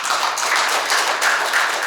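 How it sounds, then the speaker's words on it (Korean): At a literary association's inauguration ceremony, an indoor audience claps in a brief, steady burst. It is loud and close, with many hands clapping at once and no talking. "다시 한번 큰 박수 부탁드리겠습니다"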